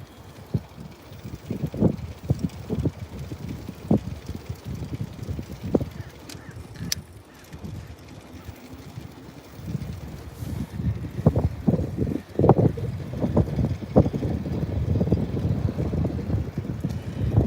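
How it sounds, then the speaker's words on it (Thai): Strong gusty wind buffets the microphone while riding a bicycle to work, coming in irregular rumbling bursts that swell and fade across the ride, loud and close with no clear talking. "ลมแรงนะคะวันนี้"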